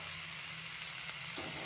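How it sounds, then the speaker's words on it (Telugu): Cooked amaranth greens hitting a hot pan of onion and curry-leaf tempering, giving a steady close sizzle with soft hiss and faint stirring, no voices. "ఆ ఆకుకూరని ఇందులో వేసుకొని ఫ్రై చేసుకోవాలండి"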